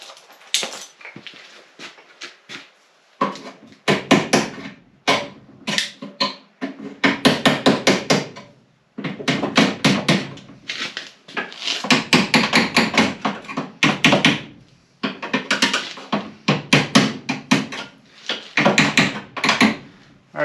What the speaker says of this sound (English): Just wanted to roughly hammer that back in shape